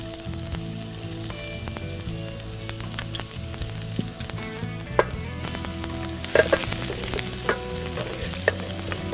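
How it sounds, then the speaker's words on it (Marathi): Finely chopped onion sautéing in a hot pan, a continuous close sizzle broken by frequent stirring scrapes and clinks of a spoon against the pan, with no talking. "आपला कांदा परतून झालेला आहे"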